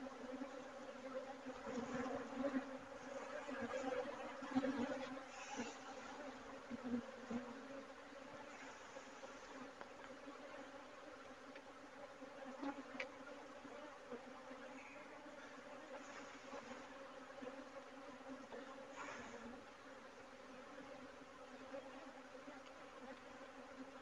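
Honeybees buzzing around a hive during swarm season, a steady mid-level drone of many wings with no talk over it.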